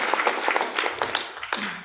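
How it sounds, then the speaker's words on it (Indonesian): Audience applause at an Indonesian business talk: a short burst of many hands clapping together, steady and fairly close for under two seconds. "Tepuk tangan untuk Anda semua."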